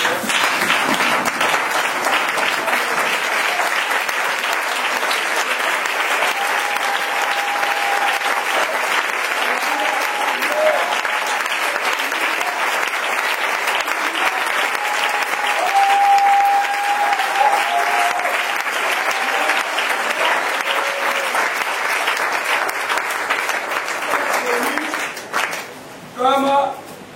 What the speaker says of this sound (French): On peut ensemble lever debout et acclamer fortement le Seigneur.